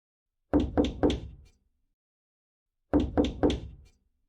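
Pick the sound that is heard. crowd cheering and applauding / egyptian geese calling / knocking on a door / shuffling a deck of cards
knocking on a door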